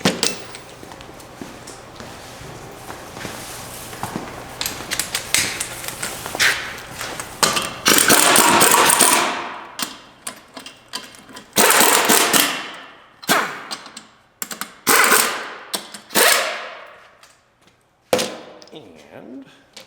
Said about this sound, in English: gently run them up with the impact